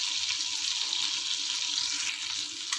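Steady, dense sizzling of cinnamon, cardamom, star anise and fennel seeds frying in hot oil, close and continuous with no talking.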